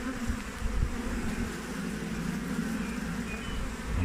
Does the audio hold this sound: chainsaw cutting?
no